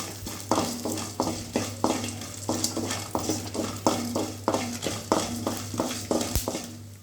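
Whole spices dry-roasting in a pan, stirred with a rhythmic series of regular scraping strokes over a steady low hum, close and fairly quiet.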